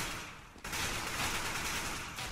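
Gunfire in Counter-Strike, shots fired through smoke, comes as a dense burst of rapid shots that starts abruptly and stays loud and steady.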